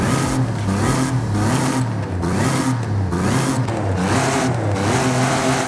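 A stock Toyota engine in Forza Horizon 5, fitted with an upgraded exhaust, revs loudly in repeated rising and falling pulls, a close, throaty roar that surges and drops several times with no talk over it.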